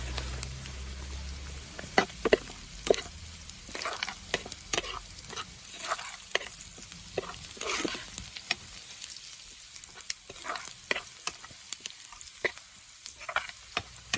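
Onions frying with turmeric in oil for a Nepali small fish curry, a soft continuous sizzle dotted with sharp crackles and the occasional scrape of stirring, close and steady without speech.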